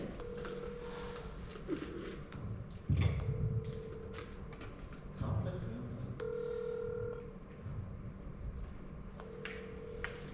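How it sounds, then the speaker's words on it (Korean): A telephone call is placed in a meeting room: short dialing tones, then a steady repeating ring-back tone that goes unanswered, heard close under people talking nearby. "전화 안 받아요."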